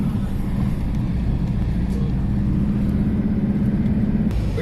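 Steady engine and road rumble from inside a moving car on a road trip, a constant low drone with tyre noise and no clear speech.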